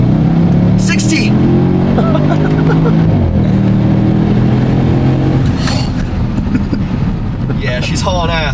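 A Porsche Cayenne Turbo with upgraded diverter valves accelerates hard, its engine droning and rising through the gears in a loud, sustained pull, heard from inside with brief turbo whooshes and a voice talking under the engine.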